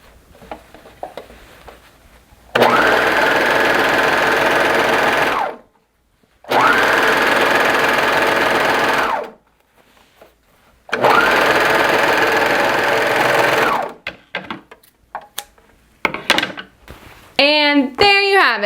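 Sewing machine attaching elastic to a leotard in three loud, steady runs of several seconds each, separated by short pauses, with brief talking at the end.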